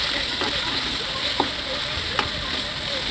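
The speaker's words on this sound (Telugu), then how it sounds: "ఇంకా వేగుతున్నాయి" Ginger and small-onion paste fries in oil in a pan for an egg curry, giving a steady, close hiss with a few faint clinks and stirs.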